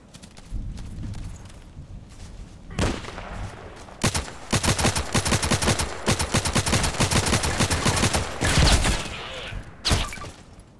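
Gunfire from the Contract Wars video game on the Old Sawmill map: repeated close, sharp shots and rapid automatic bursts rattle through most of the stretch, with short pauses between volleys.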